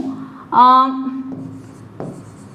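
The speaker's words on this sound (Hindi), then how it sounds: "मान लीजिए मैं यहां पे लिखती हूं" A teacher writes on a board during a vocabulary lesson, a short squeaky marker stroke rising sharply and fading over about a second, with quieter scratchy touches afterward.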